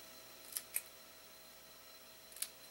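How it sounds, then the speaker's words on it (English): Gold-embossed cardstock is trimmed into a small banner for a gift card set. A few crisp, quiet snips are separated by near silence. "I'm just going to trim this down, make a little banner"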